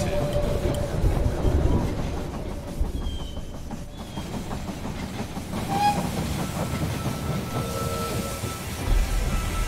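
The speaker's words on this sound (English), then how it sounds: "The train has arrived at the station." A train arrives at a station in the strategy game They Are Billions, with a rumbling rolling engine and clattering wheels under brief whistle-like tones, moderately loud and continuous.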